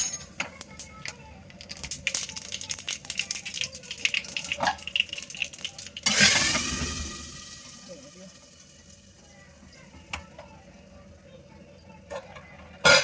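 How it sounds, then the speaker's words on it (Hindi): Cumin and asafoetida hit hot desi ghee in a home kitchen, setting off a sudden loud sizzle burst that fades to a quieter fry. Kitchen clatter and faint voices run around it. "देसी घी डाल दिया, हींग जीरा।"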